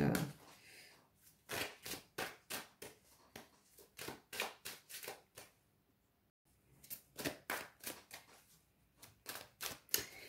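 Oracle cards are shuffled and handled by hand to draw one, giving rapid, close, papery riffles and taps in bursts with a brief pause midway, and no talking.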